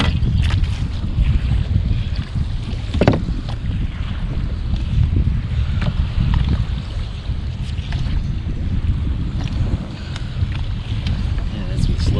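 Strong wind roars and buffets the microphone while choppy water slaps against a fishing boat at sea off Newport Beach, a dense, loud rumble that runs without a break.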